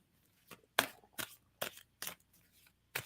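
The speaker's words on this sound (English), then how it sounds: "And someone stop shuffling." Tarot cards being shuffled, heard as about six short, crisp papery bursts spaced irregularly, fairly faint against a quiet background with no talking.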